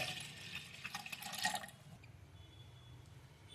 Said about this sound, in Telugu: ఒక 1/2 గ్లాసు వాటర్ వేసుకోవాలండి.